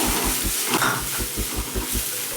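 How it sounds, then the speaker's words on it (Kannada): Fresh curry leaves hit hot oil in a pan for rava idli tempering, giving a loud, dense sizzle with rhythmic low scraping pulses as the mixture is stirred. "ನೀಟಾಗಿ ಫ್ರೈ ಮಾಡ್ಕೋಬೇಕು ಇದೇ ಸಮಯದಲ್ಲಿ ಇವಾಗ ಕರ್ಬೇವು ಹಾಕೋತಾ ಇದ್ದೀನಿ"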